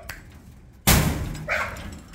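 A large 70-kilogram dog gives one loud, close, deep bark, followed by a quieter whining or yipping sound.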